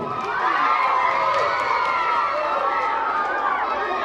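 Spectators at an Olympic fencing exhibition cheer and shout loudly, a dense wall of excited voices including children's high-pitched yells, sustained without a break.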